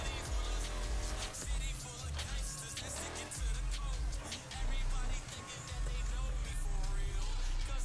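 Race cars roar and whine through a street race in the video game Need For Speed Heat, engine revs rising and falling with tire noise and game music, loud and continuous, while someone talks over it.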